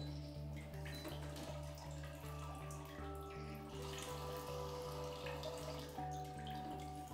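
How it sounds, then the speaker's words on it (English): A Bio Bidet BB-1700 Bliss bidet nozzle runs its front wash, a steady close water stream hissing continuously over a low pulsing electric hum. "Now, we see the front feminine wash coming from a different section of the nozzle"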